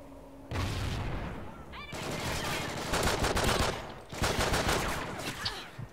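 Rapid gunfire in an online shooter video game during a clan-versus-clan match, loud dense volleys of overlapping shots with brief lulls near two and four seconds.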